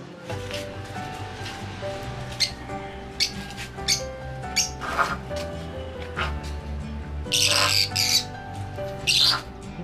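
A caged pet bird at a rural provincial home calls with repeated sharp squawks and chirps, several bursts standing out against steady background household sounds and music-like tones.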